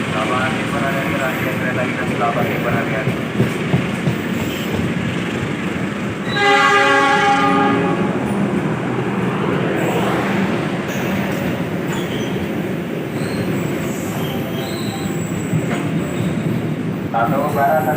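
A train running straight through a Jakarta station rumbles steadily with a loud rolling roar, and a multi-tone horn blares for about two seconds midway; station announcements are heard around it.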